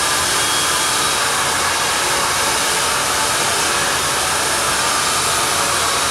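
A hair blow dryer runs steadily throughout, a loud, constant rushing whir with no pauses or talk.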